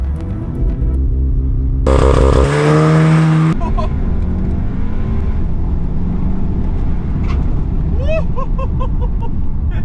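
A Volkswagen Golf R with a stage 1 tune accelerates hard from a standstill on a private road, a loud rising engine roar with a brief gear-change break, then a quieter stretch with faint voices.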